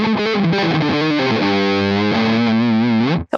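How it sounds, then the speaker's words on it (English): Electric guitar through an EarthQuaker Devices Chelsea fuzz pedal, loud and saturated, a few quick picked notes settling into a long sustained fuzzy chord that cuts off abruptly. "So this one is a fuzz too, but it's only fuzz, so you don't have any other effect."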